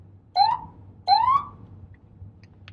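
Two quick upward-sweeping police siren whoops in manual mode, each rising sharply in pitch and then cutting off, sounding close and loud.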